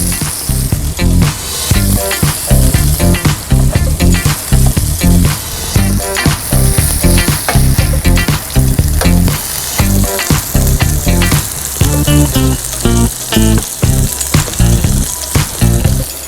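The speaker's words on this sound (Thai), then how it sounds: "เดี๋ยวเราเอาขนมปังเนี่ย มาย่างสักนิดนึง" Continuous loud crackling and sizzling of bread toasting in a hot frying pan, with bursts of popping throughout and no talking.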